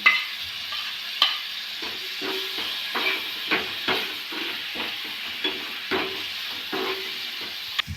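Onion, carrot, tomato and green chili fry in a pan for vegetable Maggi, giving a steady close sizzle broken by repeated scraping stirs and spoon knocks, with no talking.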